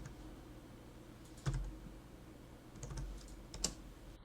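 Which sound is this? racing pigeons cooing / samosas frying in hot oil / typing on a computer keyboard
typing on a computer keyboard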